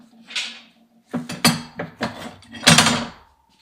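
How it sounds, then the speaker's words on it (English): Metal parts of a 1931 Ford Model A Roadster being clamped together, heard as several close, sharp clanks and ratcheting clicks in an irregular sequence, with no talk. "I'm going to clamp this one to that one"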